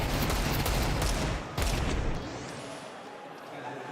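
Desert Eagle pistol fire in a professional Counter-Strike match, a dense loud burst of shots with a sharp crack near the middle, dropping to a quieter tail of in-game ambience afterward.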